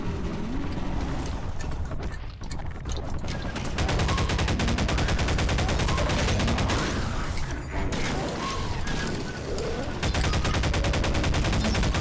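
Dense gunfire and mechanical clatter in Half-Life 2: Episode Two, with repeated shotgun blasts and rapid shots that stay loud and continuous for the whole stretch.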